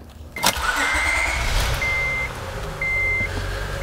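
A 2004 Acura TL's 3.2L engine runs at a steady idle after a bad spark plug is replaced, a close, even drone with short electronic beeps recurring over it.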